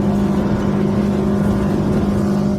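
A Maxima 700 Sport motorboat running a Honda 150 V-TEC outboard at speed gives a loud, continuous, even engine drone mixed with rushing water and hull noise, heard close and steady throughout.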